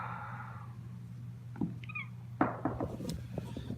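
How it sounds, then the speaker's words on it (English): A cat gives a few short meows and chirps indoors over a steady low hum, faint and close, with soft thumps in between. "some very moody cats"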